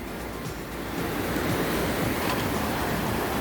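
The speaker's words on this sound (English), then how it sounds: "White waterfalls, they are humongous." Steady, loud rushing roar of the huge White Waterfalls along a snowy stretch of trail, a dense broadband wash of falling water that runs unbroken from start to finish with no voices.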